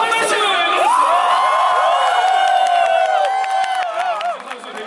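Stadium crowd at a baseball game cheers and shouts for the pitcher, a loud sustained roar of many voices with whoops and some clapping, easing near the end.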